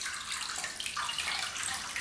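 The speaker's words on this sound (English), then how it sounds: "I'm going to pour 2 litres of water onto each gammon." Two litres of water pour into a pot over a gammon joint, a steady bright splashing rush that continues throughout without talk.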